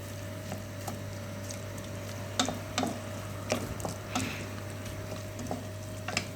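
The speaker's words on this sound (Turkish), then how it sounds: "Evet annem İyice karıştırıyor. kavuruyoruz arkadaşlar." Tomato paste sautés in a pan for an okra and chickpea meat stew, with a soft sizzle beneath repeated scraping knocks of a spoon stirring, over a steady electrical hum.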